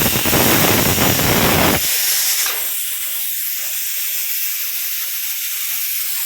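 A pressure cooker on a home kitchen stove vents steam in a loud, dense hiss that cuts off abruptly after its whistle, leaving a thinner, steady high hiss trailing on close by.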